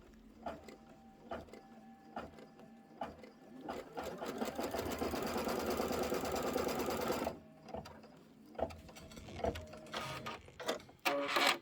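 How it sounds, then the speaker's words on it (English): Embroidery-style sewing machine stitching a quilted border on a Kimberbell project, with bursts of rapid needle chatter, a sustained fast run in the middle, then intermittent short stitch sequences and clicks, close and clear with no talking. "Now it's going to sew up at the other side. And then it's going to do the beautiful quilting stitching."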